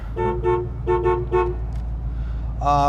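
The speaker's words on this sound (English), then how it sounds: "73 Ford Mustang, horn," Horn of a 1973 Ford Mustang convertible blasts in short bursts, a quick double toot, another double, then a single, followed by a longer honk at the end, all loud and close over an idling engine rumble.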